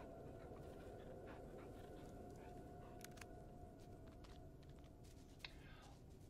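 A dog in the Blair Witch video game pants steadily, with quick rhythmic breaths heard faintly under a low ambient game hum, with occasional soft whimpers and light clicks.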